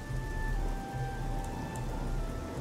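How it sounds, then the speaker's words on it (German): Rain falls steadily in the video game The Elder Scrolls IV: Oblivion, a constant close patter on surfaces with a faint tonal hum underneath. "Boah, was für ein geiles Wetter. Hätte ich gerade Bock auf so einen Regen."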